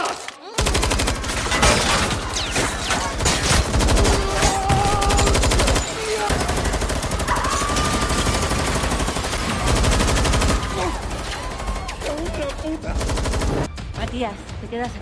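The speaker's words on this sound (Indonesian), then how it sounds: "Diam-diam Arturo dan gubernur mengambil senjata milik mereka yang akhirnya Arturo mulai menembakkan peluru" Gunfire from the heist drama Money Heist season 5, dense rapid bursts of shots and automatic fire filling the scene alongside music and brief shouted voices.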